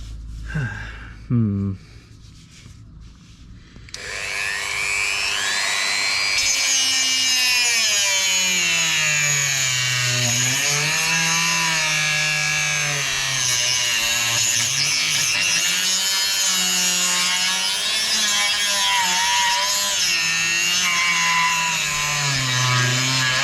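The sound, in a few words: power tool polishing rust off a Volvo V70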